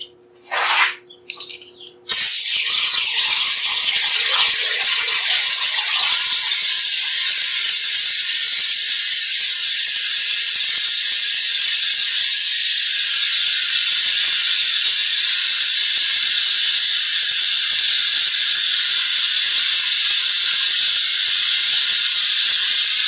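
A loud, steady hissing rush of air starts after a few brief clicks and continues without break, an Airlift pneumatic tool pulling a vacuum on a car cooling system close by.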